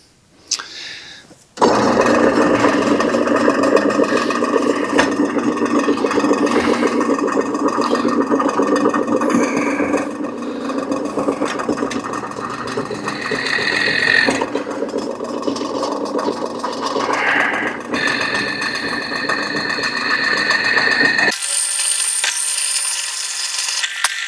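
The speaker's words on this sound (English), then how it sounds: "So let's start drilling." A power drill whines steadily as it bores into metal, grinding continuously for about twenty seconds before stopping abruptly.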